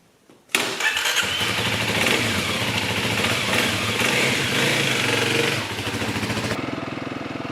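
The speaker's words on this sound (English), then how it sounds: "Let's go for a ride, and I'll tell you a little bit more about this motorbike." A Kawasaki KLX300 supermoto motorcycle engine fires up and settles into a loud, steady single-cylinder run, close by, with no talk over it.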